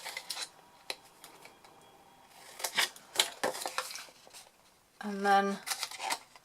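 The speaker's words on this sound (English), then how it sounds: "So I'm just simply cutting away the notches" Scissors snipping notches into the corner tabs of a card box lid, a series of short crisp cuts and paper rustles close by, with a person talking over them.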